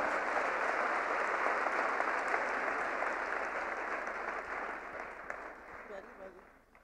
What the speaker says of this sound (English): A round of applause to Miss Sunita Gupta.